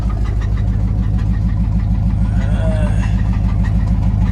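A Chevrolet Camaro IROC with a swapped-in LS engine runs steadily at idle, a loud, close rhythmic pulsing with a faint ticking knock riding through it, continuous for the whole stretch with a voice speaking over it.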